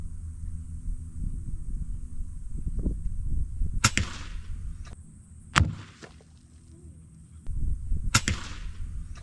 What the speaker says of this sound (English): First up is the FX M3 pellet gun.